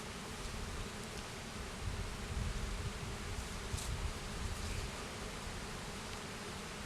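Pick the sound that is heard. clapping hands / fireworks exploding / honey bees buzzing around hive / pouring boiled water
honey bees buzzing around hive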